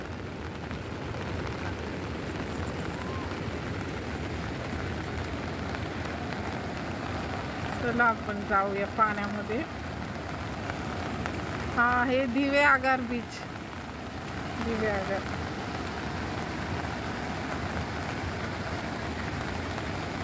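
Rain falls at Diveagar beach as a steady hiss over the whole scene, with people talking over it and a few louder bursts of voices partway through.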